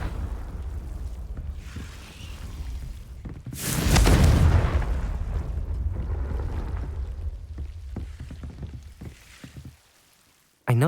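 A Confringo fire-blast spell cast in Hogwarts Legacy: a loud, sudden burst around four seconds in that rolls into a sustained rumbling roar before dropping away near the end.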